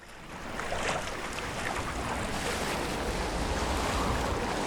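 Rowing a boat on a river in the video game Assassin's Creed Shadows produces a steady broadband wash of water and surf that swells in at the start and holds evenly.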